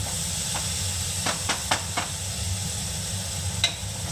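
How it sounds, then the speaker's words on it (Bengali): Oil sizzles and hisses in a pan as food fries, a steady close hiss with a few short clinks and stirring scrapes, no talking. "একটু ভেজে নেবো প্রথমে তেল দিয়ে"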